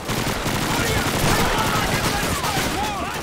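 Sustained, loud gunfire from the 2005 video game Call of Duty 2, with dense overlapping rifle and machine-gun shots and explosions in the Pipeline level, continuous throughout with a voice talking over it.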